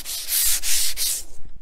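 Sandpaper rubbed back and forth over a painted cabinet top, three or four close, raspy scraping strokes in a steady rhythm.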